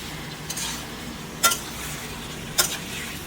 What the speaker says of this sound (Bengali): মাংসটা একটু তেলে আমি নাড়িয়ে নিচ্ছি